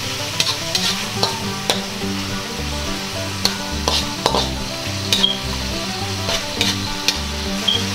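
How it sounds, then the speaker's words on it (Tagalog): Beef and its marinade being stirred in a hot frying pan, with steady sizzling and frying throughout, punctuated by repeated scraping and knocking of the utensil against the pan, up close with no talking. "Ngayon po ay ibubuhos po natin yung ating pinagmarinidan ng ating baka. Yan. Tapos haluin natin."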